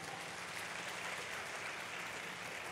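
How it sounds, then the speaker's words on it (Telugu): A church congregation claps loudly together during a sermon, giving a steady, even wash of applause that stays faint and distant throughout. "దేవునికి ఒకసారి గట్టిగా చప్పట్లు కొడదాం."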